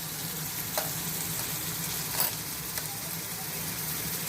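Green chili paste fries with garlic in a pan, giving a steady, close sizzle with a few faint stirring scrapes, and no talking.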